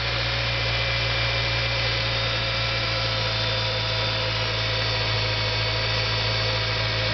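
A Ford 2.3 engine with a freshly replaced timing belt idles in a steady, even hum with a constant mechanical whir, close and unchanging throughout, with no one talking.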